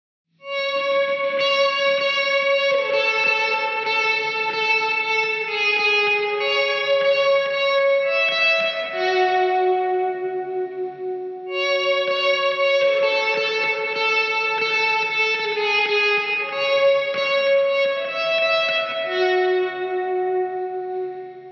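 Electric guitar played through a Greer Amps Lightspeed overdrive and a Tre-Verb reverb pedal, with lightly distorted chords ringing in long, washy sustained phrases. After a brief dip, the playing repeats on its own with no talking.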